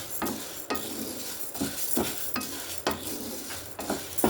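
Urad dal dry-roasting in a pan for minapa sunnundalu, a spoon scraping and stirring in regular strokes against the metal over a soft sizzle, close up and with no talking.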